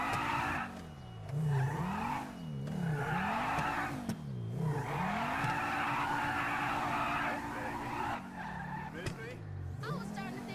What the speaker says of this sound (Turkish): arabanın egzozu patır patır ya